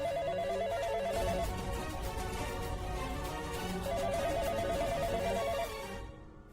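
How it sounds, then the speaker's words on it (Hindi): A warbling telephone ring trills in two bursts separated by a short pause, heard over a busy, noisy background. "ये वही होगा जो बार बार फोन कर रहा है।"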